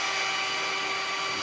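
A power drill drives screws into a handle during an installation job, giving a steady, high whining buzz that holds an even pitch and loudness from start to finish, with no talking.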